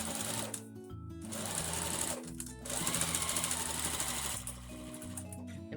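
A sewing machine stitches a face mask seam up close in several loud, continuous bursts separated by brief pauses.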